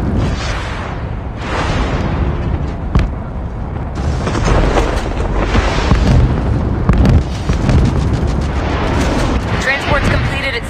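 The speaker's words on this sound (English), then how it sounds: "Grenades incoming." Grenade explosions in the battle royale game Call of Duty Mobile, set in Atlas Corp: loud, dense booms and bursts follow one another over a constant roar of game noise, with dialogue running beneath them.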